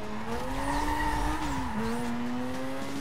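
Racing car driving in Need for Speed Most Wanted video game, a continuous engine whine that climbs and dips with gear changes, plus faint tire squeal, steady and close without speech.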